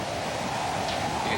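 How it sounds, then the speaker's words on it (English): Hurricane Andrew winds roar outside a house, a steady broadband rushing noise heard from indoors. "You can start to hear the roar outside."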